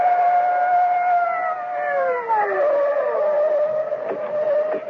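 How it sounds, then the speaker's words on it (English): Police sirens from two patrol cars wail loudly and continuously, overlapping pitches sweeping downward together as the cars hurtle through the night, with no talk. "the blare of police sirens as two patrol cars come hurtling out of the night"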